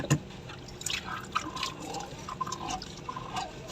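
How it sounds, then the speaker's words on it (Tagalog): Tap water runs and splashes while dishes from an earlier meal are washed by hand, with uneven trickles, drips and soft clinks close by, no talking. "Hugasan ko lang yung aking pinagkainan kanina."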